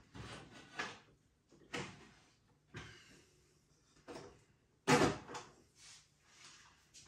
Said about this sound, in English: Open the doors on your machine.